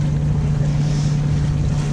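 A sailboat under mainsail and a bit of genoa off Port Leucate in the Mediterranean, with a steady low engine hum near idle beneath rushing wind and water noise, continuous and close.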